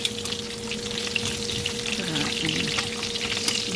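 Potatoes fry in hot cooking oil for a tuna afritada, a continuous soft sizzle and crackle of moderate loudness with no talking.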